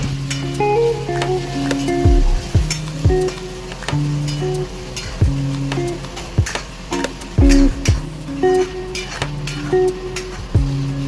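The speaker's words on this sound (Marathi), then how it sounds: "त्याला छान असं परतून घ्यायचे. बरोबर व्यवस्थित परतून घ्यायचे." Tomatoes are sautéed in a kadhai with a spatula, giving repeated scraping strokes against the pan at a steady rhythm over a low sizzle, close and fairly loud, with no talking.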